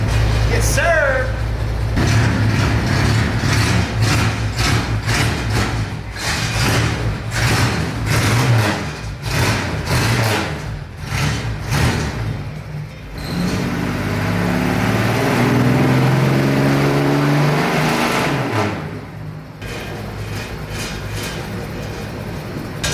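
Up close, a 1965 Ford Mustang engine idles and revs, rising and falling in a throaty rumble, with people chatting over the running motor.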